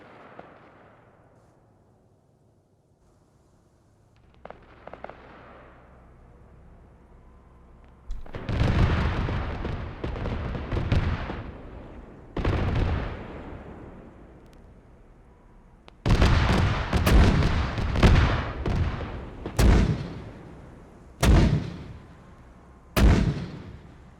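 Mortar and explosion blasts in the military game Arma 3 arrive as a string of heavy booming impacts with long rumbling decays, quiet at first, then several loud hits in irregular succession.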